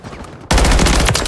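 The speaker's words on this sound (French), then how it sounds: "Je pense que c'est un fusil tactique." Tactical rifle fire in the video game Call of Duty MW3, a sudden loud burst of rapid shots that kicks in abruptly after a quieter moment and keeps going.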